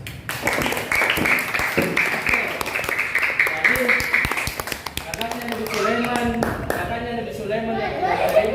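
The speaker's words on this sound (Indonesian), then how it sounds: "Aplaus." A classroom of children breaks into applause, rapid overlapping claps close by, fading into chatter and spoken voices toward the end.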